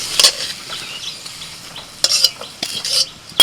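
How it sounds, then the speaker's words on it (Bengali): Okra frying gently in a pan over low heat, heard as a soft sizzle with a few sharp utensil scrapes and clinks from stirring in short bursts. "ঢেঁড়সটা ভাজা হয়ে গেল"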